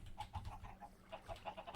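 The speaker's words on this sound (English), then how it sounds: "let's check on the chickens while we're here" Chickens in Minecraft give soft, short clucks in a quick irregular series, faint and fairly close, with no talking over them.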